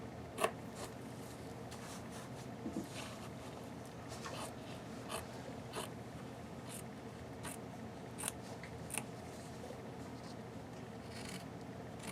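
Scissors snip again and again as they trim excess fabric around a curve while making a baby boy's tuxedo onesie frame. The sharp, close cuts come in an uneven rhythm with no talking.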